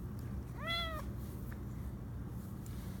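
A cat gives one clear, fairly close meow in the middle of a steady background hum.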